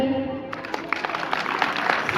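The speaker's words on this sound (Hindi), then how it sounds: "पहले तो अपने लिए एक बार ताली बजाइए" An audience claps together for a couple of seconds, a steady patter of hands that follows a voice speaking at the start.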